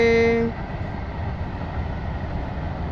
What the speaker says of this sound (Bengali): বনগাঁ থেকে বেরিয়ে যাচ্ছে ট্রেন